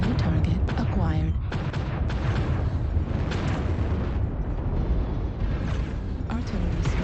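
Artillery strike explosions in MechWarrior Online, a dense, loud stretch of booming blasts and rumbling impacts mixed with game sounds and voices, continuous from start to finish.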